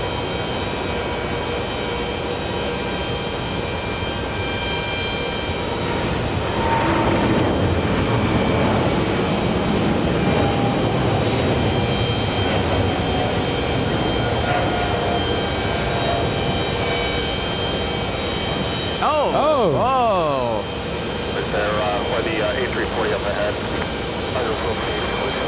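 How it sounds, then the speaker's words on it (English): An Air France heavy jet on flight 5 to Charles de Gaulle roars down the runway on takeoff at JFK, a loud sustained engine rumble with a rising whine that persists throughout, while people talk over it. "We have Air France 5 flying to Charles de Gaulle, racing down the runway."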